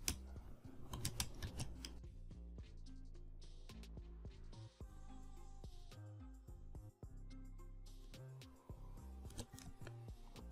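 Steady typing on a computer keyboard, quick irregular clicks and clacks of keys pressed close up, with brief pauses between bursts and no talking.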